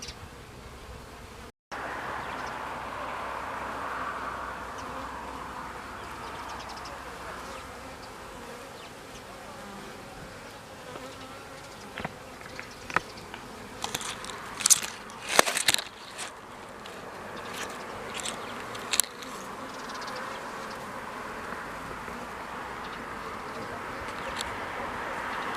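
A honey bee swarm buzzes steadily throughout, a continuous dense drone with passing individual bees flying close by, louder brief buzzes in the middle, no talking.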